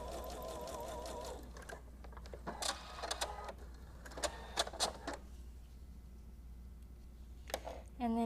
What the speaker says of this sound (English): we're just going to sew this with that short little stitch with a 1/4 inch seam